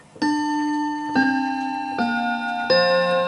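A vintage British Bentima Perivale Art Deco 8-day mantel clock ticks close and clear, four evenly spaced metallic ticks with ringing overtones in a quiet room.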